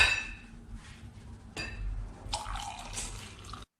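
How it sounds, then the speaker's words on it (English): Milk is poured from a container into a vessel at close range. A liquid pours in a few separate bursts, each with splashing and clinking, and it ends in sudden silence. "the liquid being poured is indeed milk"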